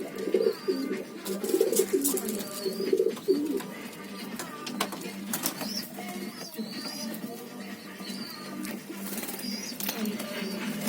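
Young domestic pigeons coo in low, soft repeated phrases close by, strongest in the first few seconds and then continuing more faintly alongside scattered bird chirps and light background rustle.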